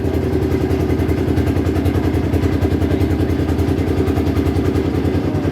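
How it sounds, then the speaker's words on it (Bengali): A trawler's diesel engine chugs steadily in mid-river, a loud, close, continuous throbbing rumble with rapid regular pulses and no talk. "মাঝ নদীতে একটি ট্রলার যাচ্ছে"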